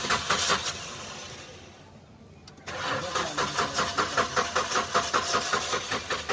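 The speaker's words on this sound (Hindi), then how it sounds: "सीएनजी पे डायरेक्ट करके स्टार्ट करो" A car's engine is started directly on CNG because the petrol pump motor is faulty. It cranks for a couple of seconds, then catches and settles into a close, loud, rhythmic idle, with no talking.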